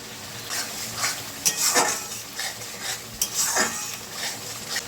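Fried broccoli and peas stirred in a pan, a utensil scraping and clinking against the metal in repeated strokes over a soft sizzle, close and moderately loud, no speech.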